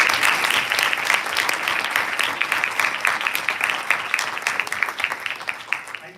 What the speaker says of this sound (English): So can we get a huge round of applause for Jimmy?